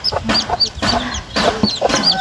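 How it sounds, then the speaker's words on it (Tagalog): Newly hatched chicks chirp in rapid, repeated high peeps, close and fairly loud, with faint background murmurs. "Ayan, may sisiw kami."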